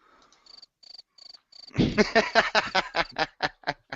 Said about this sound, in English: I have some crickets with me as well